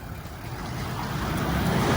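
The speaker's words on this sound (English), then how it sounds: "Got a little bit of local traffic." Rumbling engine of a large road vehicle, a cattle truck pulling into a roadside stop in outback Queensland, passing nearby, a broad rushing noise that steadily grows louder.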